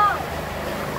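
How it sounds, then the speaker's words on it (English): A small sailboat pounding through choppy water, with a wave slapping up under the bow in a brief splash followed by sustained wash and hull noise, close and fairly loud. "That's the wave smacking under the bow."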